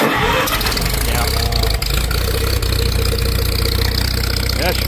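An old tractor engine cranks and catches right away, then runs loud and close at a rough, throbbing idle, with people talking over it.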